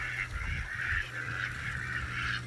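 Flock of rescued ducks kept at a water garden, calling together in a raucous, continuous chorus of honking, nasal quacks, close and fairly loud with no talking.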